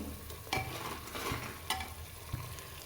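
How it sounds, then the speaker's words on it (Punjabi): Spices roast in a pan for a potato sabji, with a soft steady sizzle and a few scraping stirs of a spoon against the metal, close and quiet. "ਆਪਾਂ ਪਹਿਲਾਂ ਮਸਾਲੇ ਨੂੰ ਭੁੰਨ ਲੈਂਦੇ ਆ ਮਸਾਲੇ ਨੂੰ ਭੁੰਨਦੇ ਆ"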